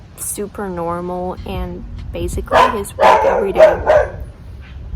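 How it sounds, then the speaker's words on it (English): A dog barks several times nearby in a home, with sharp repeated barks and whimpers overlapping a person talking. "Alright, that's my dog."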